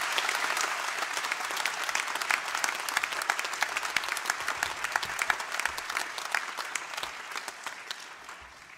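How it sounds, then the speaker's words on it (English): A large graduation ceremony audience applauds friends and family in a hall, a dense, sustained wash of many hands clapping that stays strong and then slowly tapers. "So we'd like to give them all a round of applause."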